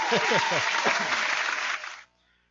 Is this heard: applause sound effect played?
yes